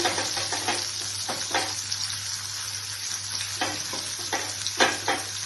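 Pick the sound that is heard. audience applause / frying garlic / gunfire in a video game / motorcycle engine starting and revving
frying garlic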